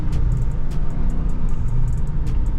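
A 2023 Dodge Charger Scat Pack Widebody Last Call on new 315 tires at full throttle, a loud, continuous deep engine roar heard from inside the car, steady and unbroken.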